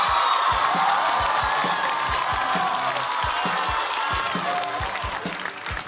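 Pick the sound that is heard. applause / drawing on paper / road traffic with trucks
applause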